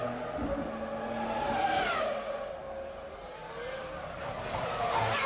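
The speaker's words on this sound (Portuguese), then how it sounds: "o motor do carro do Alonso claramente é um motor mais potente" Formula 1 cars racing at the 2001 Monaco Grand Prix, with a high engine whine that rises and falls as the cars pass, heard continuously and moderately loud under the broadcast sound.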